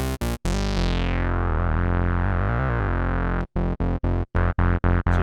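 Buzzy analog tone from a Korg miniKORG 700Sm synth, its resonant filter sweeping through bright overtones, then chopped into short rhythmic stabs.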